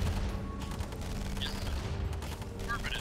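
Machine gun fire and other battle sounds from the Command & Conquer Remastered real-time strategy game form a dense, continuous rumble of gunfire throughout, with faint sharper bursts near the end.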